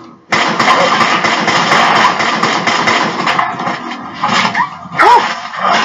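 A dog companion in Fallout 4 during a firefight, with loud barking and whimpering mixed into rumbling engine-like game noise and combat sounds, close and prominent.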